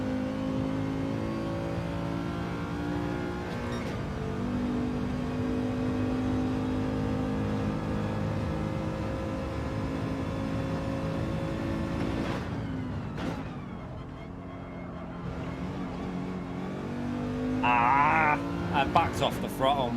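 A race car engine in Gran Turismo 7 drones steadily at high revs during a manufacturer practice session, dips briefly as the throttle eases, then climbs again, with a voice talking over it.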